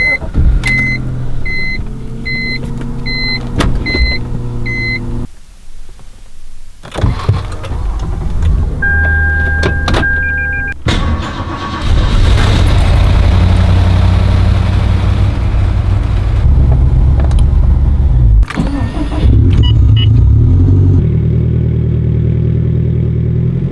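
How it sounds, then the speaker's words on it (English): Three cars being moved out of a home garage and a Subaru pulled in, with engines starting and idling, door chimes and electronic beeps, doors thudding shut and motors revving near the microphone in several distinct stretches. "we're going to move all 3 cars out and then pull in the Subaru"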